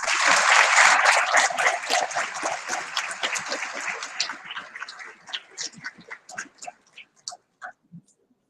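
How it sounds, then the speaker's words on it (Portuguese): Audience applause for a speaker at a law school event, starting as dense, loud clapping from a sizable crowd and gradually thinning into scattered individual claps before fading out. "peço uma salva de palmas ao nosso palestrante, Dr. Felipe Lopes Cavalcante."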